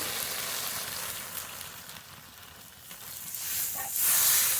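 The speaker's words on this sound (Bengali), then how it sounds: "এবার জল দিয়ে দেবো জল" Water poured into a hot pan of rohu fish curry with fried potatoes, giving a steady hissing sizzle that softens briefly and then swells louder toward the end.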